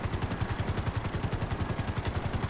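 Steady rhythmic thumping of helicopter rotor blades with a constant engine whine, close and continuous, in GTA Online.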